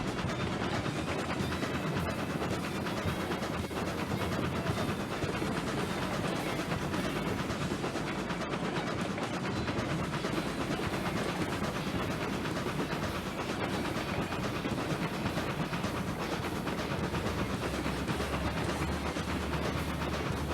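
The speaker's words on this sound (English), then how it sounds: "So our entire train is now onto the slope" A steam train in the game Railroads Online hauls its cars up a curving slope, giving a steady, dense rumble and hiss with continuous rail clatter throughout, no talk.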